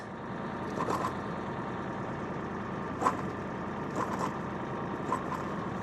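A Kioti DK series tractor engine idles with a low, steady rumble close by, a few brief clanks or knocks breaking through the even drone.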